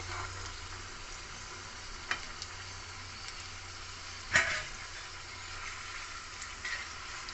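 Potato spring roll chips coated in breadcrumbs deep-fry in oil with a soft, steady sizzle, punctuated by a couple of brief clicks and one sharper clatter near the middle.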